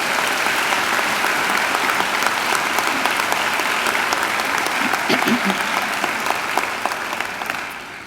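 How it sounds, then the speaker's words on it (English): Sustained applause from a graduation ceremony audience fills a hall, dense and steady clapping that tapers slightly toward the end. "I think he deserves another great round of applause."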